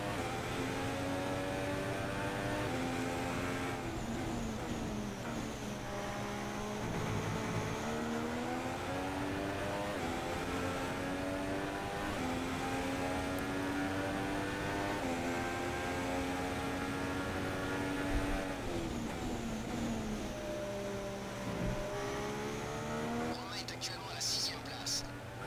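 A Haas F1 car engine from F1 2016 holds a steady, droning whine through a lap, its pitch rising and falling with the gear shifts, while someone talks over it throughout.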